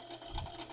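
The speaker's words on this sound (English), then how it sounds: "this here sewing machine I usually use just for my paper." A sewing machine used for stitching paper runs in a short, steady burst, its motor hum and needle clatter fairly close and unbroken, with no voices.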